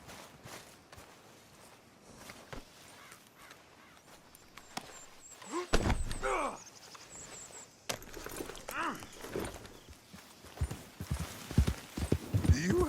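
Horse hooves clip-clop through a Red Dead Redemption 2 story-mode scene, a steady walking rhythm that runs throughout under game music, ambient sounds and brief dialogue, growing busier and louder in the second half.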